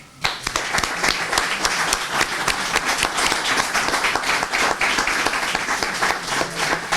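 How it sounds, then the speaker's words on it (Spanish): Audience applause at a book presentation in Peralta, Navarra: sustained, dense clapping from a sizeable crowd filling the room for about seven seconds, steady and loud with no talk over it. "Un aplauso para ellos."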